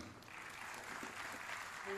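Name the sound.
audience applause at party convention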